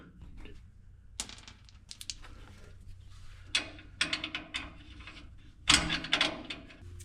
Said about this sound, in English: I'm just gonna grab some nuts, see what fits.